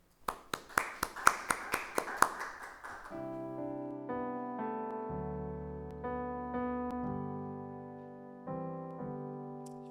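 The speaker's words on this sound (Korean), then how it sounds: "박수 치면서 한번 맞이해 볼까요?" A short burst of congregation clapping at the start of a church service, sharp claps fading within a few seconds as sustained keyboard or organ chords take over.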